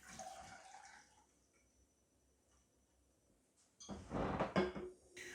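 Masala chai strained through a sieve, a short trickle of pouring liquid at the start, a quiet pause, then a louder splashing pour near the end.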